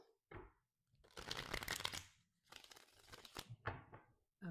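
Close riffling and shuffling of a tarot card deck, several bursts of crisp papery flutter separated by short pauses, with no talking.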